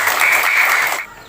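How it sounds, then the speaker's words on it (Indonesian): A short burst of applause from a small group, about one second of dense clapping that drops off abruptly. "Tepuk tangan buat email"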